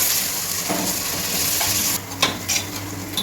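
Ginger garlic paste sizzles with onions in a pan, a steady close frying hiss with a few spoon scrapes and clinks against the pot near the end.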